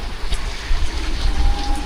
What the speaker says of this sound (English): You see how windy it is, how the rain's coming across the road and that.